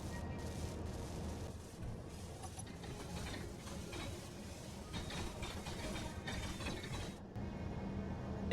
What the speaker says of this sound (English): we turn on the welder, and we reverse the piston through the printing chamber